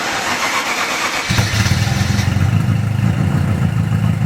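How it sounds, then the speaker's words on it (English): An old car that hasn't run in a long time cranks and tries to start, a loud, close, rough mechanical churning rising into a steady chugging rumble, with no talking. "it hasn't started in so long, so it's just pumping the fuel for everything"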